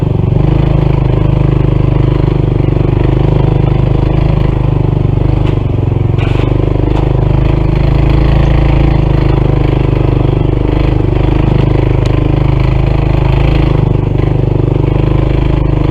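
A Honda CT125 motorcycle engine strains up a steep hill, a loud, steady, continuous labouring drone with rattly clatter layered on top, heard close for the whole stretch with no talking.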